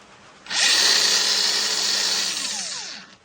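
Makita angle grinder, freshly repaired with new bearings and a washer fitted, spins up abruptly into a loud, high whine, runs steadily for under three seconds, then winds down, close and without speech.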